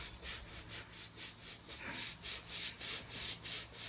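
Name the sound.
scrubbing the stable wash bay floor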